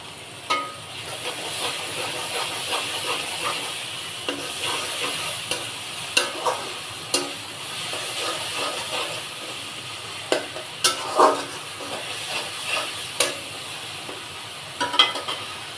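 Onion-garlic paste frying with already fried onions for a bottle gourd and taki fish curry, a steady sizzle broken by repeated scrapes and knocks of a spatula against the pan.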